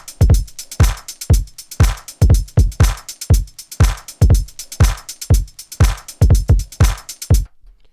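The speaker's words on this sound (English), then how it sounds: "I'll bring in the hi-hat loop for pattern 2." A beat programmed on a Pioneer DJS-1000 sampler plays a steady pattern of punchy kick and percussion hits with a hi-hat loop ticking across the bar. It is loud and close and stops abruptly at the end.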